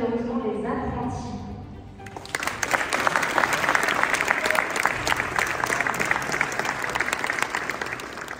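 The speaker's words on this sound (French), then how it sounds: "on peut applaudir chaleureusement les apprentis." Audience at a cooking competition awards event applauding the apprentices, dense sustained applause starting after a brief spoken passage and continuing steadily to the end.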